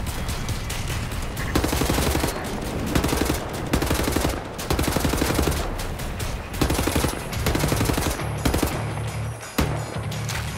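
Loud, rapid automatic gunfire from the Wolfenstein The New Order VR video game fills the scene in dense, sustained bursts with brief pauses between them.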